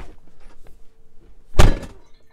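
The door of a 2022 Tesla Model Y Long Range shuts with a single solid thunk midway through, close and loud after quiet handling noises.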